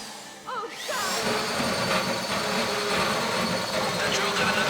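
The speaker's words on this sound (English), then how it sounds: "How you doing with that drill?" A loud, continuous mechanical whine of a power drill grinding steadily, with a brief rising electronic tone at the start, in the video game GTA V during a bank heist.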